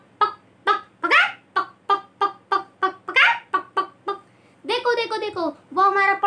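A neighbour's chicken clucks in a rapid run of short, loud, evenly spaced calls, then breaks into longer drawn-out squawking cackles, close by and clear against a quiet background.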